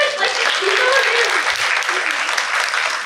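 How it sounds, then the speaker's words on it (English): A conference summit audience breaks into loud, dense applause for a keynote speaker, a continuous roar of many hands clapping with some voices mixed in underneath. "Can we get a big clap for Jared?"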